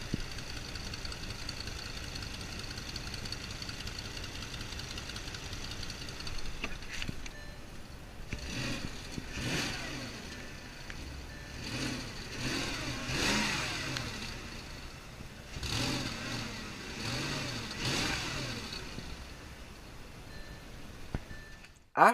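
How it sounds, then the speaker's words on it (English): A used Porsche Cayenne engine runs with a muffler-like exhaust note from the middle of the car, heard as a steady low idle and then several louder revving swells, with no voices. "There seems to be a muffler sound"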